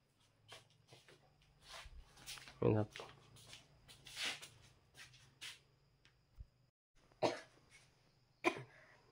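A few short coughs, close by, scattered between quiet stretches with soft movement and light clattering in the background.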